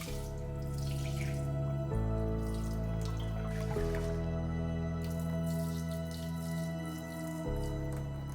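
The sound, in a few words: rinsing and draining sushi rice in water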